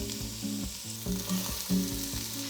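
Onion, carrot and celery sofrito hits hot olive oil in a pot, a soft continuous sizzle under a low, regular humming tone that pulses in a steady repeating pattern.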